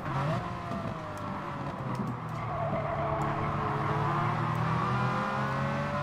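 A race car held flat out at full throttle in Gran Turismo Sport during an FIA online race, its engine a steady high-revving howl, with rising pitch sweeps and a faint tire squeal.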